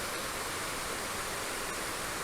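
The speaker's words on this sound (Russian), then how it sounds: "Здесь тоже есть водопад, он побольше." A waterfall in the Crimean mountains rushes in a steady, dense wash of noise that stays loud and unbroken throughout, with no voices.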